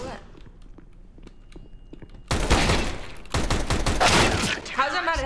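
Gunfire in a video game shooter erupts after a quiet stretch of clicks, then loud dense bursts of rapid shots continue close up, with a voice heard near the end.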